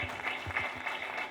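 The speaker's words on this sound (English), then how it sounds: "Another round of applause, please." A gala dinner audience at Speke Resort Munyonyo gives a dense, even round of applause, many hands clapping at once with no voices over it.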